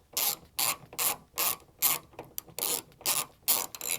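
A ratchet drives three T30 screws into the rear exterior door handle of a 2008 second-generation Toyota Prius, giving eight or nine rhythmic bursts of rapid clicking, close and clear with no talking.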